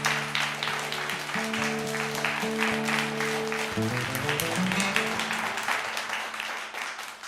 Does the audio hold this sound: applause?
yes